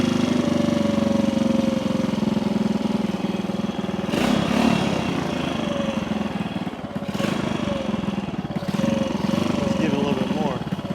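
A motorcycle engine idles a little fast, a steady continuous drone with a few brief bursts of other noise over it.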